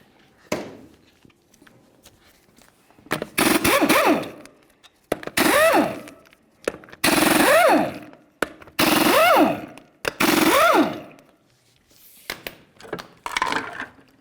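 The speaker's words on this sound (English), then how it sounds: "you're going to continue on by removing all 5 of your 19mm lug nuts" An impact wrench takes the 19mm lug nuts off a 2002-2005 Ford Explorer rear wheel, with a series of loud, close rattling bursts followed by rising whines and short pauses between nuts.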